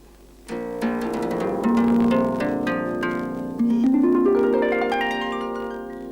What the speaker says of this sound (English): She plays the harp.